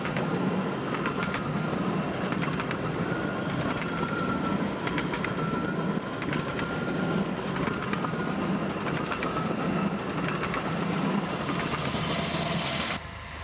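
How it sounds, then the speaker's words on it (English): An empty miniature railway school train, worked push-pull with a control trailer on the rear, runs past with a steady, dense rumble and rail clatter that holds level throughout before dropping off right at the end. "a control trailer is attached to the rear of the train so it can work as a push-pull unit"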